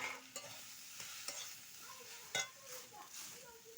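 Fried pointed gourd and potatoes go into a spiced pan and are stirred, producing soft sizzling broken by a few sharp scrapes and clinks of a utensil against the pan, close and fairly quiet.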